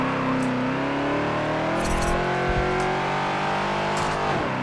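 Ford Bronco accelerating in Forza Motorsport 7 during an autocross showcase: a steady, loud engine drone climbing in pitch with a couple of brief shifts, heard alone without talk.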